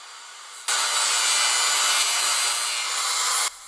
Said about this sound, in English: grooves are plowed into the plywood to fit the steel bars